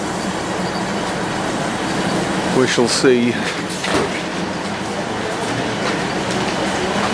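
A train rumbles at Keighley station during the Keighley & Worth Valley Railway spring steam gala, a low steady drone with a brief metallic squeal near the middle while people talk nearby.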